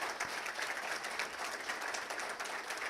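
Applause from an audience at a college signing-day ceremony for associate degree nursing graduates, a continuous, fairly loud crowd clapping throughout with no speech.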